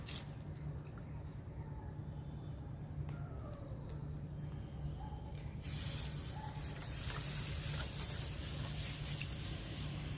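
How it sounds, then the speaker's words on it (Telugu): A sprayer hisses steadily as neem oil is sprayed onto brinjal plants, a faint continuous mist spray that grows louder and brighter midway through, with no talking. "స్ప్రే చేసుకుందాం ఇంకా"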